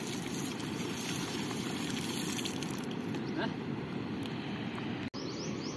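River water flows steadily in a broad, constant rushing wash, with faint bird chirps in the background and a brief dropout near the end.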